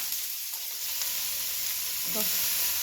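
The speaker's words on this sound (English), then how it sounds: "we're going to throw our onion, fennel, and garlic in first and just start to sweat that" Onion, fennel and garlic sweat in hot grapeseed oil, giving a steady, fairly quiet sizzling hiss throughout, with a light stirring scrape near the end.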